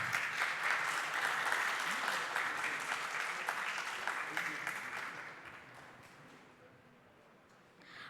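A crowd claps at a nature photography club's annual award ceremony in a museum hall as an awardee is called to the stage; the steady, dense clapping thins and fades toward the end before a brief swell.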